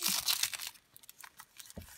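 Sticky tape is pulled off with a ripping, crinkly sound, loud at first and then fading into a few small crackles and a final tug.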